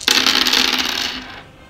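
Several dice tumble and clatter across a board in an Axis and Allies 1941 game, a single loud rattling roll that starts abruptly and fades over about a second and a half, with no talking.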